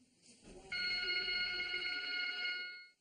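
A telephone rings in one sustained, trilling burst, fairly faint and close, with no one speaking.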